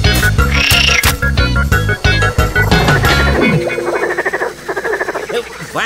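Cartoon frogs croak together in a swamp, a dense, loud chorus of rhythmic croaks that thins toward the end, with music-like tones and no talk.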